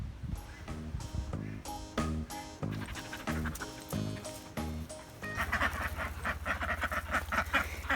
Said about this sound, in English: These are the baby ducks.